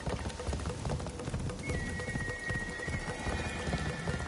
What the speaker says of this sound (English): So we are galloping just so we get to where we want to get to a bit quicker.